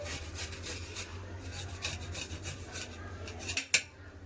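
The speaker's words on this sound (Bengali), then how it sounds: "একটু আদা খুঁড়ে নেবো ফুটনিতে" Fresh ginger is rasped on a grater in a home kitchen, giving a steady run of quick scraping strokes that end in a sharper knock, close and alone.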